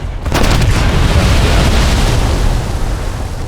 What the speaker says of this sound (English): I just had a torpedo go straight past me, and then it exploded.